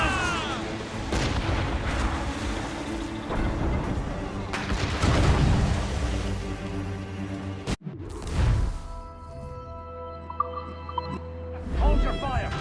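Ship cannons fire in a naval battle in Assassin's Creed Rogue, heavy booms and rolling blasts over game music and shouted crew commands, with one sharp loud crack near the middle.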